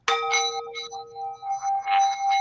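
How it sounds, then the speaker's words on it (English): A small bell is struck, giving a bright ringing tone with a sharp onset and sustained overtones, then several lighter repeated dings that shimmer and decay, close and clear with no talk. "ring the bell"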